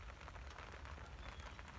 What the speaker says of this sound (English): Because it is raining.